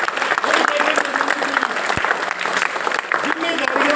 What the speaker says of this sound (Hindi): तालियां तो बजा दिया करो।